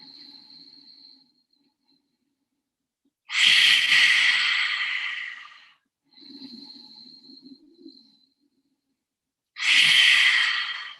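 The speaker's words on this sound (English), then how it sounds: "Inhale, belly, chest, and let it go." Deep yoga breaths at a desk: two long, loud, airy exhalations close to the mic, each following a quieter, softer inhale, with silent pauses between breaths.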